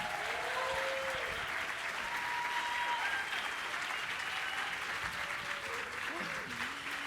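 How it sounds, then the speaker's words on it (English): Steady applause fills a conference hall as a keynote audience claps for two speakers, with cheers and calls over the top, holding at an even level throughout. "Please, a round of applause to Tanicha and Caridad."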